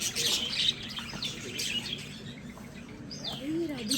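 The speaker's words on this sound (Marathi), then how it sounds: "इथे खूप सारं पक्षी आहेत." Parrots squawking and chirping at a staycation spot: scattered calls and squawks sound close, with a rising chirp near the end, over a steady low background murmur.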